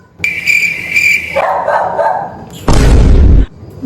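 A dog gives a short run of barks and yips, close and loud, followed by a sudden heavy thump or boom near the end.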